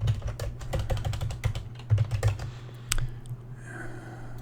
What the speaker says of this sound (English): let's just type it ourselves.